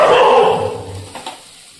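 A pet dog named Kutun barks at home near a kitchen, one loud close yelping bark that trails off into a softer whimpering tail.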